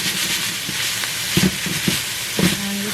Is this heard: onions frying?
yes